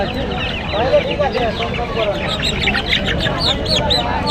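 Parrots and fowl chirp and squawk densely at a busy West Bengal livestock and bird market, loud overlapping calls with chicken clucks mixed in and voices talking underneath.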